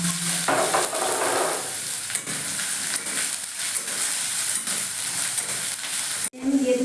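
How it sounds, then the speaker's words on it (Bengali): Chopped onion hits hot oil in a wok for a yogurt chicken dish, setting off a loud, continuous close-up sizzle with stirring scrapes running through it until an abrupt cut near the end. "আমি দিয়ে দেবো পেঁয়াজ কুচি।"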